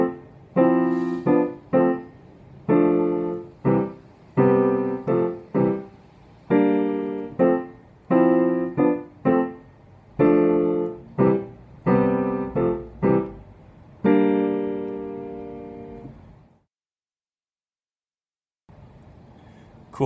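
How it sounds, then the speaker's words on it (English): A piano plays a song riff on its own: short repeated chords in a bouncy syncopated rhythm, with a long held chord near the end before a brief pause and one more chord. "So the whole riff in its entirety should sound something like this."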